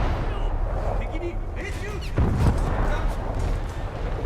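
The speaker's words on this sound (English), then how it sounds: "I'm gonna turn down the gunfire volume a bit if I can." Heavy ship gunfire in a naval battle video game, low rumbling booms with a strong salvo blast near the middle. Someone speaks over the battle noise.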